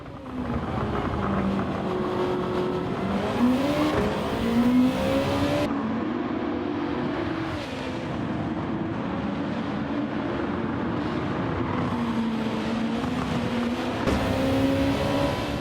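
Race cars lapping in a video game race, Honda NSX cars running nose to tail down a straight, with steady loud engine drone and rising and falling revs through gear changes.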